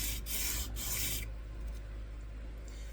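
Sanding by hand makes a steady, close, hissing rub, with bright strokes in the first second and then a quieter, duller scrape continuing alone.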